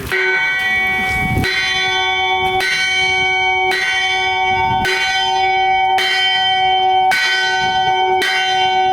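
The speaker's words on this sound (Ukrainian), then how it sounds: "По закінченню освяти військові забили у дзвін." A church bell rings loudly in a steady, repeated rhythm, about seven strikes with long ringing overtones that overlap and sustain between hits.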